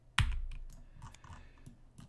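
A deck of blackmail cards from the board game John Company, 2nd Edition, being shuffled close up: one sharp snap followed by a quieter scatter of light card clicks.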